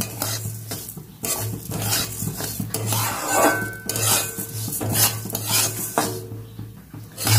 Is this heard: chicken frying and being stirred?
yes